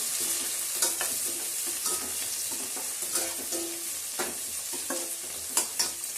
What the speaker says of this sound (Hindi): अब 1 चम्मच के अंदाज में जीरा डालेंगे और फिर हम प्याज डाल देंगे और ये अच्छे से थोड़ा सा भून लेंगे